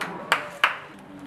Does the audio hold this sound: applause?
yes